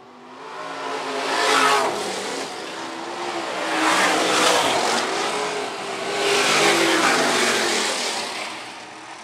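Sprint cars race past at a dirt track, Phillips County Raceway, their engines swelling and fading in three long loud passes as they run down the back straightaway.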